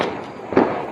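Diwali firecrackers at a night celebration, one sharp bang near the middle of a short moment, fairly loud over a steady background hiss.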